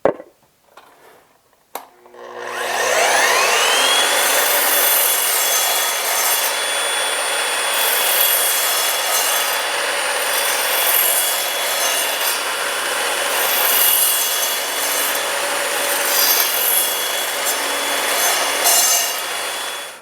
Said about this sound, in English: next I have got a 2x4 up here, and I want to cut a dado in it, so I have the depth stop engaged